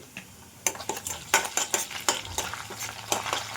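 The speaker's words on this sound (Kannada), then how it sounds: "ಈಗ ಒಂದು ಸ್ವಲ್ಪ ಶುಂಠಿ ಬೆಳ್ಳುಳ್ಳಿ ಪೇಸ್ಟ್ ಹಾಕ್ಕೊಂಡು ಬಾಡಿಸ್ಕೊಳ್ಳೋಣ ಚೆನ್ನಾಗಿ" Ginger garlic paste sautéing in oil in a pan for vegetable upma, with a soft sizzle under brisk, rhythmic scraping and clinking of a utensil stirring against the pan.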